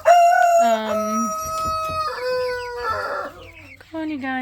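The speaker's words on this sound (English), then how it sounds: "this is my little group of chickens" A small backyard flock of chickens clucks and calls up close, with overlapping squawks and a crow-like cry, loud and continuous with no talk.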